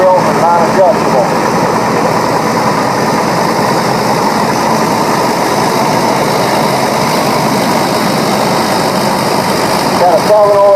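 A vintage standard tractor with fixed front and non-adjustable rear wheels idles and chugs steadily through a heritage threshing-show parade at Rollag, mid-distance under continuous background noise, with a voice talking over it.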